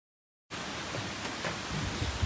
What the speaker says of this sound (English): the rain's winning again